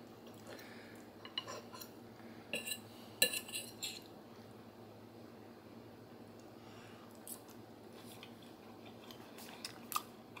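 Quiet eating of three-year-old freeze-dried lasagna, with faint clinks of cutlery and soft crunchy chewing and biting scattered over a low steady background hum.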